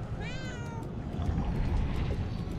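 A cat meows inside the video game Murdered: Soul Suspect, a single rising-and-falling call heard early over a steady bed of rumbling ambient game noise with faint repeated ticks.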